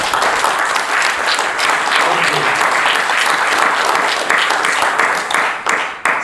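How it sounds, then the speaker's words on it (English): A WordPress conference audience applauding a speaker, a loud continuous roar of many clapping hands in a hall, holding steady for several seconds before tapering off at the end. "Please give me your big round of applause for him."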